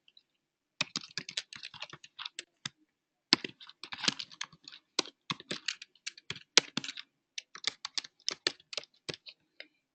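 Login credentials are typed on a computer keyboard in bursts of quick, light key clicks separated by short pauses, close by and quiet, with no talking.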